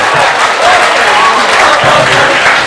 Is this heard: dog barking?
no